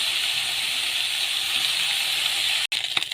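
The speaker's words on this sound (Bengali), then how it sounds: "মাছগুলো উল্টে দিয়েছি, ভাজা হয়ে গেছে।" Maya fish seasoned with salt and turmeric fry in a pan of oil, a steady close hiss of sizzling that runs without a break and then cuts out briefly near the end before a few louder crackles.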